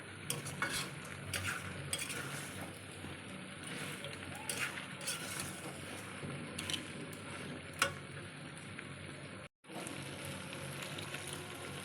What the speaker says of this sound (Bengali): সামান্য একটু জল দিয়ে কষিয়ে নিচ্ছি